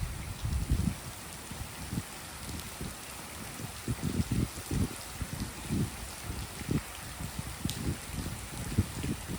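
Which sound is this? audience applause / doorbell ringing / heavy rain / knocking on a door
heavy rain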